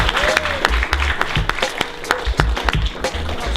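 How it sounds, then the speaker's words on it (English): An audience at a youth event claps for the organising team, scattered, uneven hand claps with sharp individual strikes over a low murmur, moderately close and fairly sparse rather than a full roar. "So a big round of applause for them"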